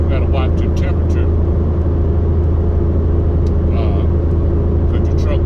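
A truck's engine labors up a hill in a steady, loud, low rumble that fills the cab from start to finish, with someone talking over it.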